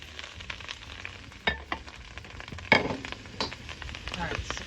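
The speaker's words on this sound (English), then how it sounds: "Right about now is when we're going to go ahead and add all of our cauliflower." Cauliflower for keto Spanish rice sizzles and fries in a pan, a soft steady crackle broken by a few clattering stirs and knocks, fairly quiet.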